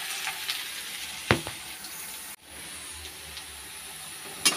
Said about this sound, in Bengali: পেঁয়াজ আর শুকনো লঙ্কা দিয়ে তেলের মধ্যে একটু ভেজে নিচ্ছি